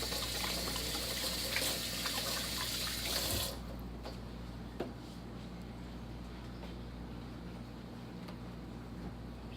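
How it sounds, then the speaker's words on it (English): A kitchen tap runs in a steady hiss while hands are rinsed during casserole prep, then shuts off partway through, leaving quiet room tone with a faint clunk. "I'm gonna give my hands a quick rinse again"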